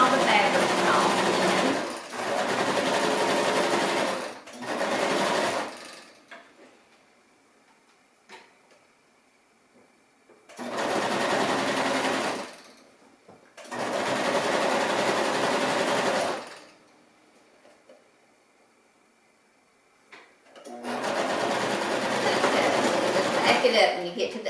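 Sewing machine stitching fabric for a pillowcase, running in several steady bursts of rapid clatter separated by quiet pauses, close and fairly loud, with a voice speaking between runs.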